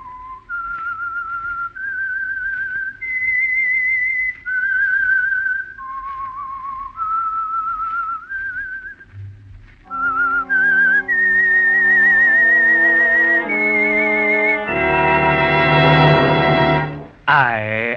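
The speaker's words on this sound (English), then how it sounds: "That whistle is your signal for the Signal Oil Program" A lone whistler carries a slow, eerie melody of held notes. Then a bright orchestral chord joins in and swells before cutting off.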